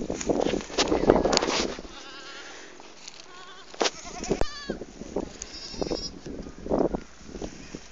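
Several goats bleat in wavering, nasal calls, with some louder bursts of voices and movement at the start.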